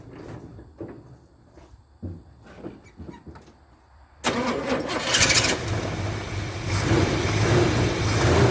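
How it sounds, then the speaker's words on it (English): A Square Body truck engine cranks and catches at about four seconds after several quiet knocks and clanks, then settles into a loud, steady idle that fills the rest of the stretch. "Crazy how that starts right up."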